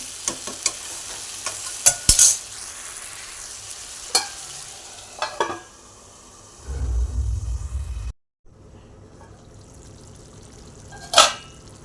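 Kitchen sounds of stirring and a soft sizzle as chicken liver cooks in a covered pan over low heat, with scattered clinks and scrapes, a low rumbling stretch, then a brief silence before faint cooking noise resumes.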